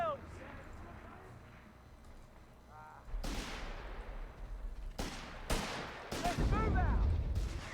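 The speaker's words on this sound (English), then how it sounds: "Lots of mortar." Mortar rounds land in Company of Heroes 3, with sharp explosive bursts striking several times in the second half over rumbling battle noise, while a voice talks faintly early on.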